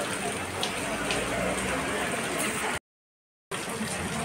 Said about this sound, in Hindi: तो ये देख सकते हैं काफ़ी तेज़ बारिश हो रही है।